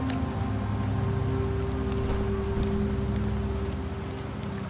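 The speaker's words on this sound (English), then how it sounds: "The rains in Septimont never seem eager to leave this season." Steady rain falls in the Septimont region of the video game Wuthering Waves, a soft continuous patter over a low tonal hum, with a faint knock at the very end.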